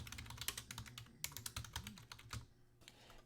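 Keys clatter on a computer keyboard in quick, irregular bursts of typing, close and fairly quiet, with a brief pause before the tapping resumes.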